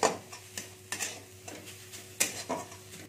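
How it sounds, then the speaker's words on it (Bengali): Carrots with green chilli and turmeric powder being stirred in a pan, repeated close spatula scrapes and taps against the metal in an uneven rhythm over a faint sizzle. "হলদি গুঁড়োটা দিয়ে ভালো করে নেড়ে নেবো আমি।"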